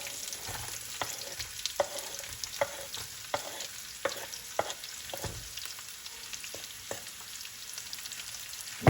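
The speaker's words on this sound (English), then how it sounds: "So now what we're gonna do, we're gonna add the onions." Onions fry for a curry chicken, giving a moderate, steady sizzle with repeated scraping knocks as they are stirred around the pan; no one talks.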